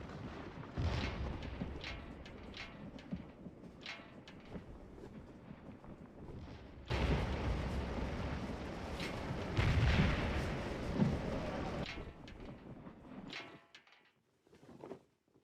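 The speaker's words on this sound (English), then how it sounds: "We did bring guns up and start shooting over here." Cannon fire from artillery batteries in the Civil War strategy game Scourge of War Remastered, a dense stretch of low booms and rumbling volleys that swells louder midway, then thins to scattered distant shots before fading out.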